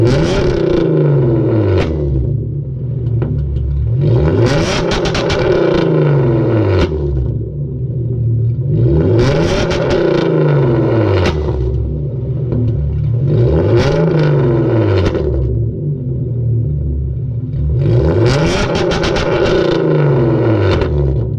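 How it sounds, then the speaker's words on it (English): Hyundai Genesis Coupe engine revved repeatedly up to the rev limiter, loud and close, in five or six rising surges, each falling back with crackling exhaust pops. "literally like 2 or 3 of those pops sounded like an actual damn cannonball firing out"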